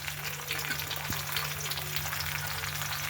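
Sauce frying in a pan with only a little oil, a steady hiss and crackle of sizzling with a constant low hum underneath, one brief stir or clink partway through.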